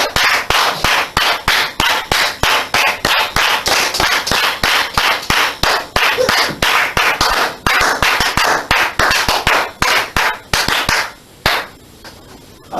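A church congregation claps in praise, steady and rhythmic with many hands together, loud and close, before the clapping breaks off near the end.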